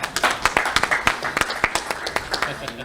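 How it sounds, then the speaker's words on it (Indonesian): An audience at a church gathering claps in a brief, scattered burst of hand claps, moderately close, with talk overlapping. "Kasih tepuk tangan dulu dong."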